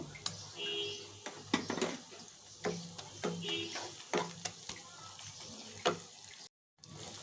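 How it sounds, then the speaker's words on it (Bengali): Ginger garlic paste fries with onions in a pan, soft sizzling broken by repeated stirring and scraping strokes, fairly quiet and close, with a brief silent gap near the end. "কিছুক্ষণ আমি আদা রসুনটা ভেজে নিয়েছি"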